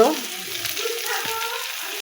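Potatoes go into very hot oil that was just used to fry tengra fish. They sizzle loudly and close up with a frothy, steady crackle that stops abruptly.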